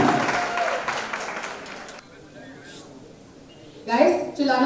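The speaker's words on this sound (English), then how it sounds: "a huge round of applause for Mahima Makwana and Ayush Sharma." An audience applauds and cheers at a promotional event for Mahima Makwana and Ayush Sharma, with clapping beneath a host's talk, a brief lull, then a fresh burst of clapping.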